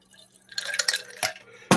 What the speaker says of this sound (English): Drop the ice cubes in.